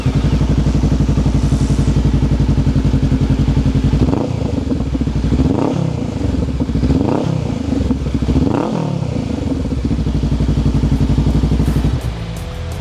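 Honda Rebel 500 motorcycle fitted with a Tyrant exhaust, idling loud and close with a steady deep rumble, then blipped through four or five quick revs before settling back to idle.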